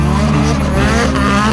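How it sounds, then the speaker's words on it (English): A D1 GP drift car with an SR20 engine, huge turbo and big intercooler roars loudly and close at Ebisu Circuit in Japan, a dense, sustained engine howl. "This is one of the D1 GP cars that compete here in Japan."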